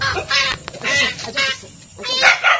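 Farmyard chickens making loud honking, clucking calls close by, several bursts in a row with no talking.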